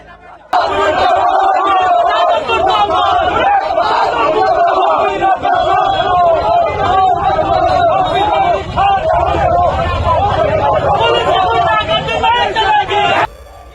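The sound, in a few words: angry protesting crowd shouting and throwing stones outside bungalow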